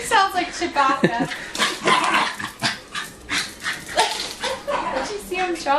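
Excited dog barking and whimpering with yips, the bursts coming in quick succession close by while a person talks over it, calling to the animal.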